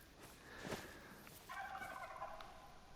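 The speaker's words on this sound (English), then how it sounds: "There's some turkeys out that way." Wild turkeys gobble in theHunter: Call of the Wild, two rattling calls in quick succession sounding from a distance over faint outdoor ambience.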